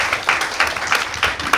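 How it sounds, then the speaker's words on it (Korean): An audience at a Korea University lecture on open-source software claps to welcome a speaker; a short, steady burst of moderately loud applause with no voices. "큰 박수로 환영해 주십시오."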